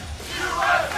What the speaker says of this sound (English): the crowd chanting USA in the background